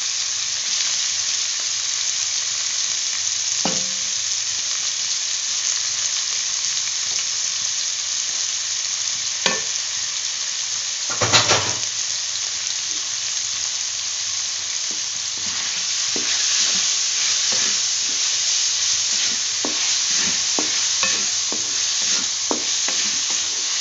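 Keema samosa filling stir-fried in a pan, a steady close sizzle running throughout with scattered scraping stirs and one louder clatter near the middle, no voices.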